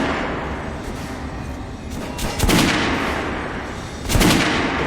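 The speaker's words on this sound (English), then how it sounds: "Try shooting for the center of the regular dummy's chest." Gunfire rings out at a shooting range in Metro: Last Light Redux, with two loud, sharp reports a couple of seconds apart over a rumbling background.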